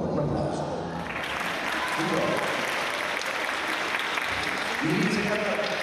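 Audience applause at a choir concert in Ragusa, steady dense clapping throughout with a voice speaking over it.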